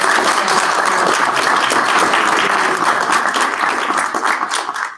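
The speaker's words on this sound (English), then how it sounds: "I would like if everyone could give a round of applause to Kim" A faculty audience at a retreat gives a sustained round of applause, dense clapping from many hands at close range that thins slightly toward the end.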